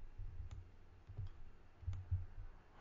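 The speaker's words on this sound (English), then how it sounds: "Sorry if you're hearing me fiddle with my computer." Faint clicks and taps from someone fiddling with a computer, a few sharp ticks spread irregularly over a low, quiet background hum.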